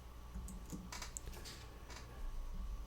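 Quick taps on a computer keyboard as a spreadsheet formula is typed, a few scattered clicky keystrokes close by in a quiet room.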